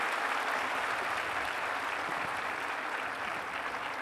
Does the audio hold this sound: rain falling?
no